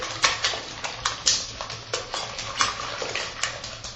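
Pudding cake batter is whisked in a bowl, quick rhythmic scraping and tapping strokes repeating close up and fairly loud, with no talking.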